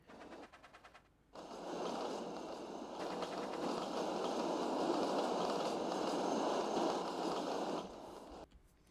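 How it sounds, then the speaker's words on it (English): The Flying Scotsman steam train departing, a loud sustained roar and rumble with rapid rhythmic chuffing and clatter, building after a brief quieter start and dropping away near the end. "the Flying Scotsman left with his rail excursion bound for the UK."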